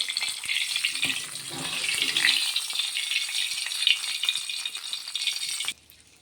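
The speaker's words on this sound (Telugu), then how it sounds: "ఇప్పుడు పప్పు పోపు పెట్టుకున్నాను కదండి, ఇదంతా నేను పప్పులో వేసుకుంటున్నాను." Hot tempering hits the lentil dal for pappucharu with a loud, crackling sizzle and spatter that runs for several seconds, then cuts off abruptly.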